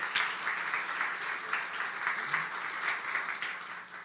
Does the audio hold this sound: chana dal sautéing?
no